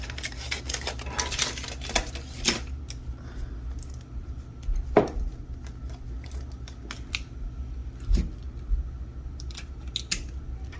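Scissors snip through heat transfer tape cut to a measured length while crafting with a sublimation blank, a few crisp close cuts scattered among light handling rustles and clicks.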